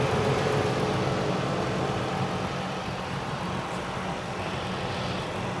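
A 2016 Ford Explorer's naturally aspirated 3.5 liter V6 runs at a steady idle, a smooth low hum that holds evenly and eases slightly quieter toward the end, with no talking.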